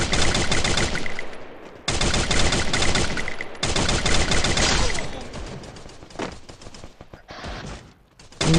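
Loud video-game gunfire in a multiplayer match, dense rapid bursts of automatic shots in long runs with short gaps between them, close and dominating, no talking.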